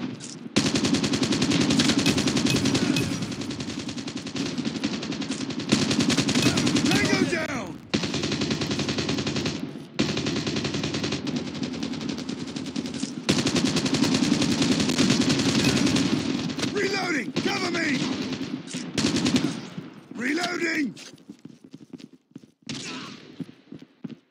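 Rapid automatic gunfire in the video game Call of Duty Mobile, long dense bursts broken by short pauses for reloading, loud and close, with game voice callouts, thinning out toward the end.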